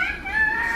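A voice imitates a chicken, giving one short, sustained, crow-like call that is close, loud and alone.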